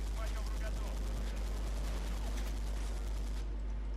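Dense, continuous gunfire and battle noise from the World War II strategy game Sudden Strike, a steady mix of rifle and machine-gun bursts with no clear pauses, holding at moderate level throughout.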